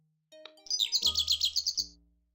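Caged birds in a Sherlock Holmes video game chirp in a quick, bright run of about ten rapid tweets, loud and clear over near silence with a faint low hum underneath.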